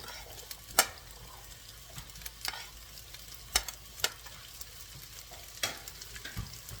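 Jumbo shrimp with onion, green onion, peas and carrot fry in a pan for fried rice, a low quiet sizzle punctuated by crisp scraping clicks of a utensil stirring at irregular intervals, no voices present.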